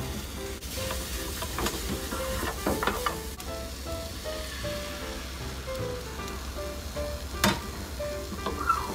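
Beaten egg with white dashi sizzles steadily in a home frying pan for rolled omelette, a continuous close crackle with occasional scrapes and clinks from the pan and utensil.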